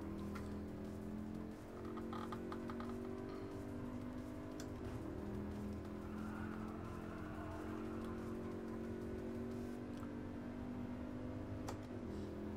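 Racing car engine from GT Sport, a GT League Sunday Cup race, droning steadily and close throughout with a sustained mid-pitched hum and slight variations, no talking over it.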